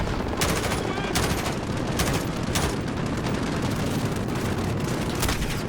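Loud, dense gunfire from a video game shooter, rapid continuous bursts with sharper individual shots standing out, close and sustained throughout with no clear pauses.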